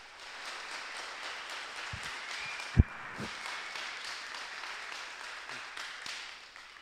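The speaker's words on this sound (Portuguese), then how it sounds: "Aplauda mesmo sem preguiça, povo." A church congregation claps in scattered, uneven bursts, faint and distant, with one sharp nearby clap standing out briefly amid the soft ongoing applause.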